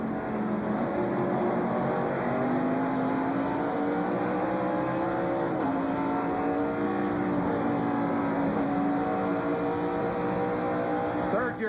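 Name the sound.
race car downshifting, 1996 Bud at The Glen onboard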